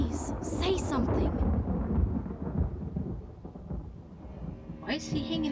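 In the adventure game Black Mirror 2, a deep thunder rumble rolls over steady rain, loud at first and then fading, with a fresh crackle near the end and voices talking alongside.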